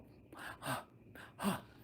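A man imitates air hunger with two sharp, breathy gasps for air, spaced under a second apart, close and fairly quiet, with no words spoken.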